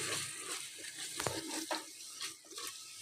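Spiced goat liver masala frying in a pan after the spices go in, with a soft sizzle and intermittent scraping stirs of a spoon, close and fairly quiet.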